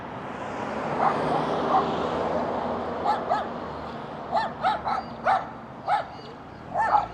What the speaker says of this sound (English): Tiniest little dog